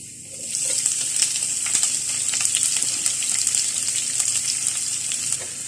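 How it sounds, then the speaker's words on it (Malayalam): Chopped onion drops into hot oil with ginger and garlic, setting off a sudden loud sizzle that settles into a steady, crackling fry with faint stirring. "അപ്പൊ ഞാനിതിലേക്ക് സവോള ആഡ് ചെയ്ത് കൊടുക്കുകയാണ്"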